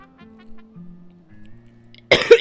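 A single short burst of coughing bursts out loudly near the end, following a stretch of quiet tonal background sound, with no voices alongside.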